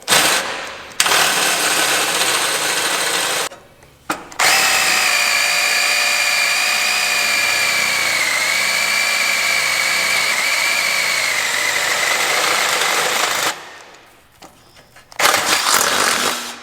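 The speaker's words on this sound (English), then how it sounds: "Now we're going to take our 3/8 bit and finish out the hole." Power drill with a 3/8 bit boring through a steel frame for a Squarebody truck crossmember install, a loud sustained whine that runs for about ten seconds between short bursts of trigger spin-up and stops.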